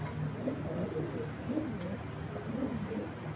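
A pair of black checker racing pigeons coo softly and repeatedly, low rolling calls overlapping in a steady rhythm, close by against a faint background hum.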